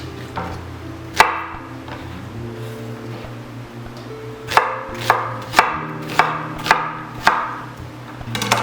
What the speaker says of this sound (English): this one you can just cut into rough pieces